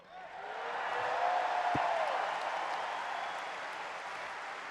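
A crowd applauds seniors at a Purdue BoilerBall basketball Senior Day, the clapping rising quickly into a dense, sustained roar that holds steady with faint cheers inside it.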